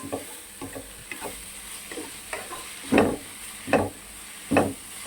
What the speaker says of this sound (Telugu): చాలా ఈ టమాటా ఎర్రగడ్డ అంతా దీనికి పడుతుంది, దీంట్లోనే వేయించడం వల్ల చాలా బాగుంటుంది.